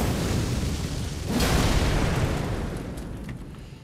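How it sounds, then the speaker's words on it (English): A small burst from a strange branch-like weapon in the Elden Ring video game swells into a single broad, loud blast over an already dense, rumbling game soundscape, then slowly fades. "Oh, it does a little mini explosion."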